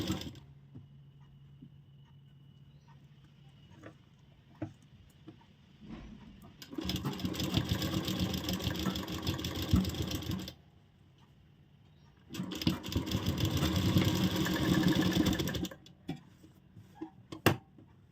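A sewing machine stitches along the edge of a pocket zip in two dense bursts of rapid running, separated by quiet pauses filled with faint ticking and handling clicks.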